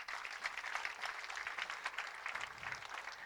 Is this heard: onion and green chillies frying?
no